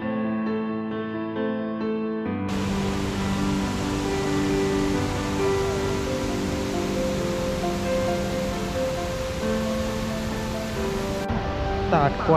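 Tat Kuang Si waterfall near Luang Prabang, Laos, roars as a dense, steady wash of falling water that starts abruptly after a brief musical passage and cuts off near the end.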